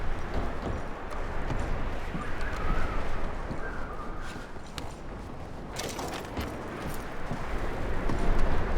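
Horses move through snow in the Red Dead Redemption 2 video game, their hoof clops scattered across a constant windy, noisy background in a snowstorm.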